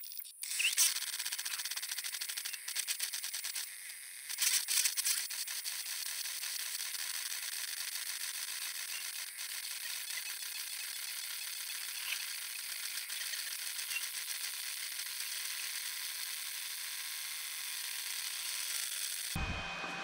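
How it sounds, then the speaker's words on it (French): An Artillery Sidewinder X4 Plus 3D printer prints a small boat, its steppers and fans giving a steady, faint high whir with soft ticks for about twenty seconds, with no talk. "On va laisser imprimer ce petit bateau."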